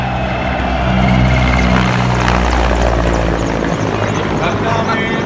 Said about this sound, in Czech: Nad námi armádní vrtulník